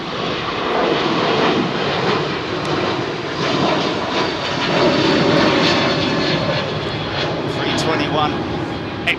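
A JetBlue airliner's jet engines roar steadily at London Heathrow Airport, a loud, sustained rumble under a person talking nearby.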